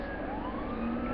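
Police car siren from the video game GTA 5, a steady wailing tone sweeping up in pitch, loud and continuous with no talk over it.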